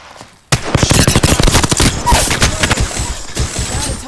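Rapid bursts of automatic gunfire in Apex Legends erupt after a brief quiet opening and continue densely for several seconds, loud and close.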